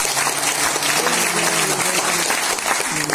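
An audience bursts into dense, loud applause, many hands clapping steadily together at close range, with a low voice faintly underneath.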